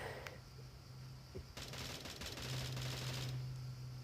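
Rapid gunfire from a mobile first-person shooter game, a dense burst of shots lasting a couple of seconds over a steady hum, fairly faint and with no talking.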